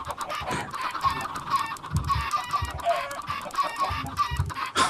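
Chickens cluck steadily in a Minecraft FTB game farm, a busy flock of repeated clucks and squawks at close range with no talk over them.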